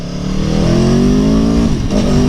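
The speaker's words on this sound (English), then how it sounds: "That engine, V4 engine sound is nice, but it needs to be enhanced with the pipe." A 2017 Aprilia Tuono V4 1100 Factory motorcycle's V4 engine revs up close and loud, its pitch climbing smoothly before easing off near the end, with no voices.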